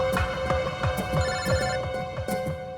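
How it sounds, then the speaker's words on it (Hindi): A telephone rings loudly in a repeated, evenly spaced pattern of trilling bursts, close and alone with no talk. "एसीपी साहब का फोन।"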